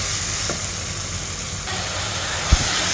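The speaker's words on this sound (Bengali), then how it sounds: "দেখেন, মশলাটা আমি ভুনা ভুনা করে ফেলছি" Spice paste with black pepper and garam masala fries in oil for a magur fish curry, making a continuous loud hiss and sizzle, with a single knock near the end.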